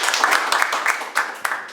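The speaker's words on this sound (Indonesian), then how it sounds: "Tepuk tangan buat Tuhan." A church congregation claps together in a fairly loud, uneven burst of applause that sounds near, with some voices mixed in.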